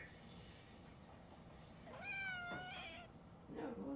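A cat meows once, close and fairly clear, a drawn-out wavering call, followed by a short squeaky sound against a quiet room hum.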